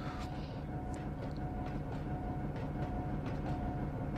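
A tram runs along its rails in the Trainz game, with a steady rumbling hum, a persistent tonal drone and rhythmic clicks of wheels over track joints, loud and continuous.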